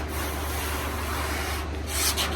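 A hand sanding block rubs over the lower tailgate panel of a C10 truck during bodywork, giving a steady, close, continuous abrasive scrubbing with no pauses.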